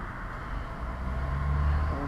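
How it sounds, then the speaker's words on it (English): Steady outdoor road traffic rumbles in the background beside a backyard barbecue grill, a low continuous hum of passing vehicles that builds slightly, heard under someone talking. "sorry about the traffic noise"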